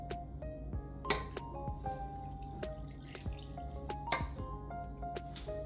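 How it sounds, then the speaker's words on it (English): A cup of water pours into boxed funfetti cake mix in a bowl, giving soft drips and small wet splashes against a faint kitchen background. "The next step is to pour in 1 cup of water."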